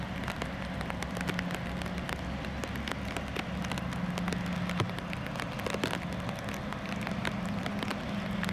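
Steady rain patters and hisses across the whole stretch, with scattered sharp drops and a low locomotive engine drone of a CSX freight train running underneath.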